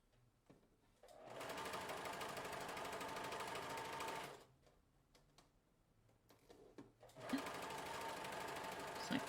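A sewing machine stitches lace trim into a cuff edge in two close runs of fast, even needle chatter, separated by a short pause with faint handling sounds.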